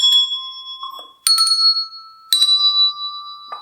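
Bells, the kind used in a children's music corner, ring out a short melody of a few clear struck notes spaced apart, each one bright and ringing on before fading.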